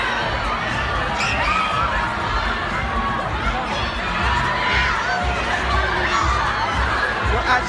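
A large crowd of young fans screams and cheers continuously at a YouTube awards party, a dense, loud, unbroken roar with high shrieks throughout.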